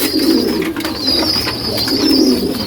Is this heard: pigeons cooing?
yes